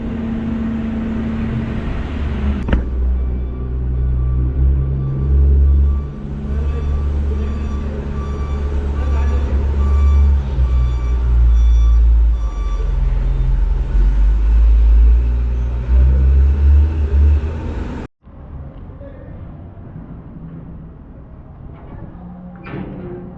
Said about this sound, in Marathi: कंटेनर उचलायचं मशीन बघा मित्रांनो क्रेन हेवी क्रेन